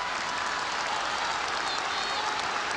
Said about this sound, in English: That now has got the crowd really warmed up.